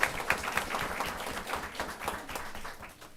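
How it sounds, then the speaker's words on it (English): An audience applauds a student being recognized at a school board of education meeting, with a steady patter of many hands clapping at moderate loudness, no voices over it. "Give Claire a round of applause."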